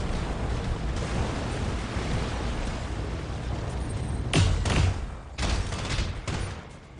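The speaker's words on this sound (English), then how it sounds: "These stray shots are getting a little vicious" Stray gunfire striking a mech in the Battletech video game, a dense rumbling barrage of shots and impacts with a few sharper bursts near the end, loud and continuous with no talk.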